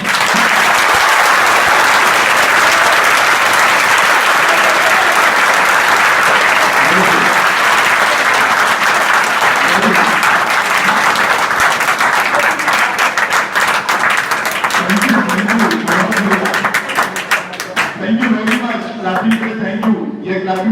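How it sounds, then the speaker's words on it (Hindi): A school audience applauds schoolchildren with loud, sustained clapping that thins toward the end, with a few voices calling out as it fades. "ये सारे बच्चों के लिए जोरदार ताली बजाएं"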